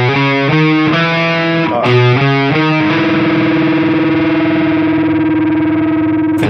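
A distorted electric guitar playing a scale, with a squeaky finger slide as the hand jumps from the fifth string to the fourth, giving short picked notes and then one sustained ringing tone.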